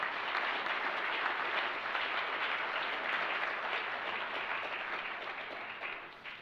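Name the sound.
audience applause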